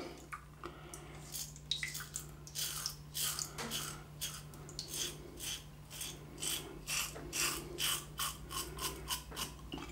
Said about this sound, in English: You can hear the blade cutting, but you can't feel it.